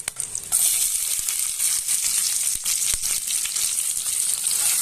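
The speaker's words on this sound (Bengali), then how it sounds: "এবার এর মধ্যে আমি দিয়ে দিচ্ছি পেঁয়াজ কুচি।" Chopped onions drop into hot oil tempered with garam masala, and a sudden loud hiss bursts out and then settles into a steady, bright sizzle with scattered stirring knocks.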